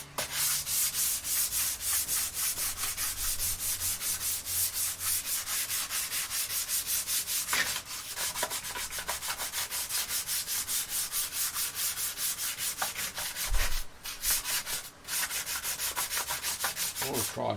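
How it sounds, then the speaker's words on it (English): A left-handed Tele-style electric guitar kit body is sanded with a foam-backed sponge and 320-grit sandpaper, giving a close, steady scratchy rubbing in quick back-and-forth strokes with brief pauses. "Just using a foam back sponge and some 320 grit just to get it nice and even."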